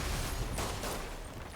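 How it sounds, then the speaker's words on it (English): A loud, rumbling explosion in the Spider-Man video game, a broad roaring blast with crackling debris that stays dense for a moment and fades slightly. "Do we know what caused that explosion?"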